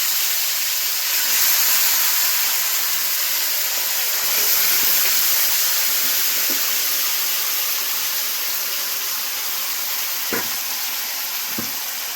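Marinated chicken pieces sizzle loudly in a hot pan with whole cardamom and cinnamon for chicken kosha, a steady broad hiss that fades slightly over time with a few faint clicks near the end.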